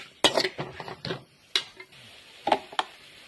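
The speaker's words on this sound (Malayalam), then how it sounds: "നന്നായിട്ടൊന്ന് വഴറ്റട്ടെ." Garlic, shallots, ginger, green chilli and curry leaves sauté in a pan, heard as a few sharp clacks and scrapes of a spoon against the metal pan, sparse and close, with quiet gaps between strikes.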